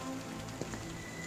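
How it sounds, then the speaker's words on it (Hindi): Rain falls with hail, a dense, steady hiss of drops broken by a few faint sharp ticks of hailstones hitting a surface, even and continuous with no voices. "बरसात के साथ ओले गिरने लगते हैं"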